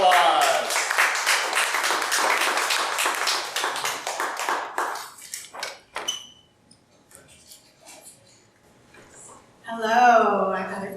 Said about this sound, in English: Give her applause.